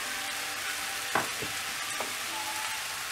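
Mushrooms sizzle steadily in a pan, close and constant, with a couple of sharp stirring knocks in the middle.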